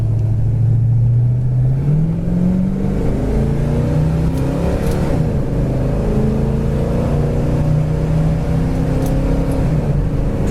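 A 1972 Chevelle accelerates through the gears on a manual shift, its loud engine rising steadily in pitch over a continuous rumble, with one gear change early on, heard close and without talk.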